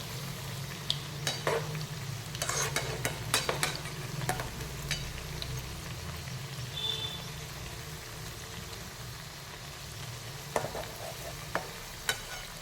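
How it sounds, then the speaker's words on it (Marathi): Potato leaf vadi shallow frying in oil in a pan, a soft steady sizzle with a few sharp clinks and scrapes of a spatula turning the pieces, close up and fairly quiet throughout. "ह्याला खमंग भाजून घ्यायचं, तळून घ्यायचं."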